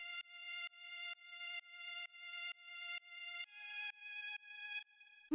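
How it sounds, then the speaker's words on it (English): A thin, dark string drone layer from a dark techno loop, sustained harmonic tones pulsing in a steady repeating rhythm, shifting pitch partway through and ending with a brief burst, alone and fairly quiet. "Then the last layer that we have here is this little string,"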